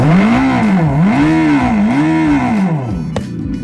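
Revolt RV400 electric motorbike playing its artificial engine sound, a loud close synthetic revving tone that rises and falls in repeated waves before a brief click near the end.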